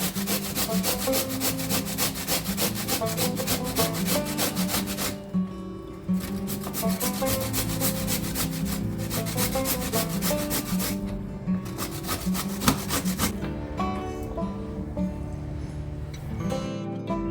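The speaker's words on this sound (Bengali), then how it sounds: "আর এখন যেটা করছি সেটা হচ্ছে কচুটা ঘষছি" Taro root is grated by hand in a home kitchen, a continuous rhythmic rasping scrape repeated in quick strokes, with brief pauses between bursts and no voices.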